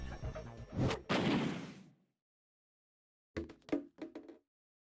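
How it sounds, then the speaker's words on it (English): Explosion blasting ice off a door in the Zero Escape 999 video game: a sharp burst with a rumbling decay, a silent gap, then a few brief crackling knocks of debris. "Hooray, we did an explosion."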